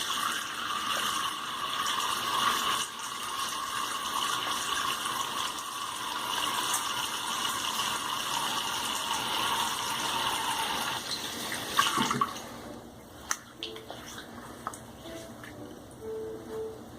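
Running tap water pours steadily and fairly loud during a head shave, rinsing the razor and scalp, then cuts off near the end, leaving small clinks and splashes in a quiet bathroom.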